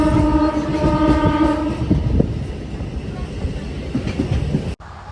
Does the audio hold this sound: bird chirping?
no